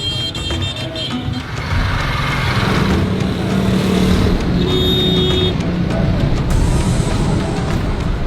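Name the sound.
heavy traffic in Lahore streets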